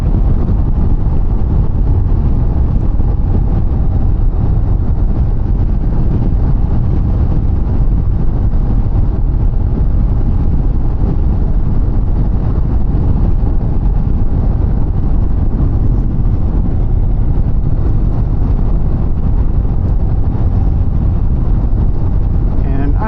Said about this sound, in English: I can't hear it over the wind.